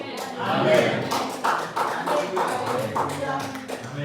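A church congregation claps in a loose, rhythmic patter that runs throughout, with voices mixed in over the clapping.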